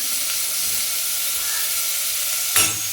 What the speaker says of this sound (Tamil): வெட்டி வச்ச ஆனியனை ஃபுல்லாக அப்படி போட்டோம்னா அப்படியே ஒரு சவுண்டு வருங்க, அஸ்மர் சவுண்டு மாதிரி